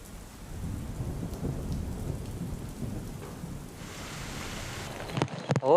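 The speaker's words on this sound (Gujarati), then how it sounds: "ત્યારબાદ ઝરમર વરસાદ વરસ્યો હતો" Steady rain falling in Bhavnagar, with a low rolling rumble of thunder beneath the patter. A few abrupt knocks come near the end.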